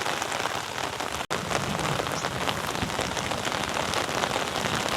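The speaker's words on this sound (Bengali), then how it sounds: "বেশ জোরে সোরে বৃষ্টি এসেছে" Heavy rain pours steadily onto an umbrella and an open field, a dense, close, continuous patter that fills the whole stretch with no voices.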